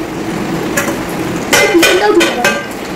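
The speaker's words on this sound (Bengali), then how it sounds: "মায়ের থালটা ধুয়ে নিচ্ছি, পরিষ্কার করে ধুয়ে নেবো এটা বেসিনটা দিয়ে" A metal plate being washed at a basin gives several sharp clanks and scrapes in quick succession, close and fairly loud over a steady background hiss.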